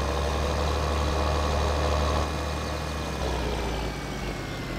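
A tractor engine in Farming Simulator 2013 drones steadily with a deep, constant rumble, loud and unbroken throughout, with no talking.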